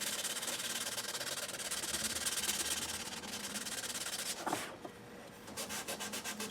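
Sandpaper of 400 grit rubs over the finished neck of a Les Paul guitar, a continuous close, hissing scrub that pauses briefly near the end and then resumes in short, rhythmic strokes.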